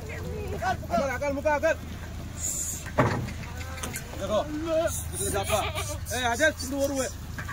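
Kathiawari goats bleating in short wavering calls, several overlapping near and mid-distance, as they are unloaded from a vehicle, with a person talking throughout and a brief clatter partway.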